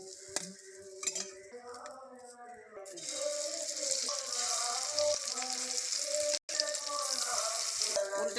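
Eggplant slices coated in spiced egg batter frying in oil in a pan, a steady close sizzle that swells louder midway, with a few clinks of utensils at the start.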